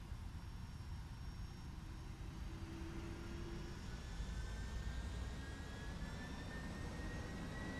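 Boeing 757F freighter engines spooling up in the X-Plane 12 flight simulator, a steady jet roar with thin rising whine tones that grows slightly louder toward the end, heard alone without talk.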